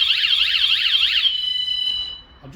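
A campervan security alarm gives a piercing warbling electronic blast for just over a second, then a steadier tone tails off and stops, loud and close with no talking.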